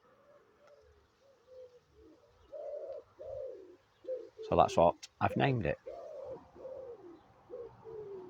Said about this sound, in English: Pigeons are a bit noisy today.